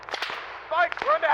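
Gunfire in the ArmA siege of Chernogorsk snaps out as a quick series of sharp, close cracks in a brief burst.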